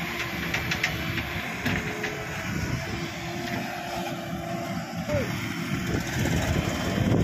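Two small tractors, a Swaraj and a Sonalika, laboring up a steep slope, with a rough, rumbling diesel drone and clattering that persists throughout, moderately loud with outdoor noise.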